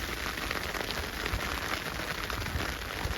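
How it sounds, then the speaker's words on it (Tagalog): Ice pellets falling like rain outdoors in wintry Germany, a steady dense hiss and patter of many small impacts on surfaces, continuous and even throughout. "Umuulan ng ice."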